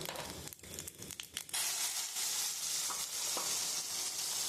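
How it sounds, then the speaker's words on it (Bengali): Cumin, bay leaves and cloves sizzle and spit in hot oil, a close, loud, steady frying hiss with a few stirring clatters at the start, no voices. "আমি ওই তেলের মধ্যে আমি ফোড়ন দিয়েছি জিরে তেজপাতা লবঙ্গ"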